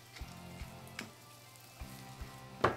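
Potatoes crisp in hot oil, building a crust, giving a quiet, even sizzle broken by a few soft pops and crackles.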